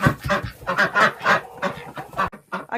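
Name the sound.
ducks quacking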